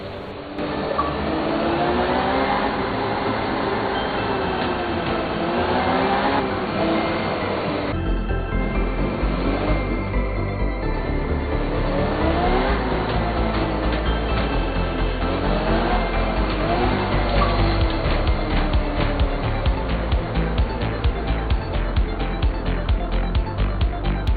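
Rally car engine in the Art of Rally video game, a steady loud drone with rising and falling revs and gear shifts, continuous throughout with no talking.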